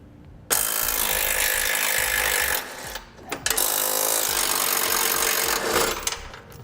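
A power tool whirs loudly and steadily while loosening 18mm nuts on the inside of a 2015 Jeep Wrangler frame beside the fog lights. It runs in two long bursts with a brief pause between them, and no one talks.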